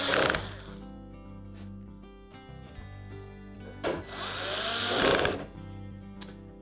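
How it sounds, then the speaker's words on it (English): Retaining screws are driven into a Frigidaire range during an overlay replacement, with two short bursts of driving noise over a steady low background hum. "then put in the rest of the retaining screws"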